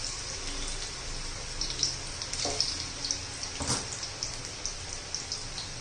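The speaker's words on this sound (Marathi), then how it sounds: "मस्त असं खमंग कुरकुरीत होईपर्यंत मध्यम गॅसवर तळून घ्यायचे" Spinach bhaji frying in oil over a medium flame, a steady soft crackle and bubbling with light pops and a few sharper ticks, close and even throughout.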